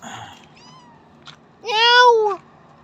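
A pet cat gives one loud, drawn-out meow close by, following softer background sounds and faint chatter.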